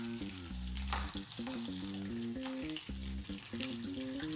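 Prawns frying in oil hiss with a fairly quiet, continuous sizzle and light crackles, heard beneath steady background music.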